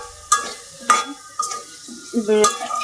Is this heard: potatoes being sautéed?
yes